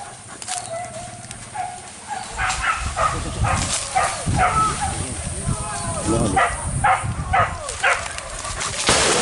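A dog barks several times at a distance amid outdoor ambience, with people talking over it.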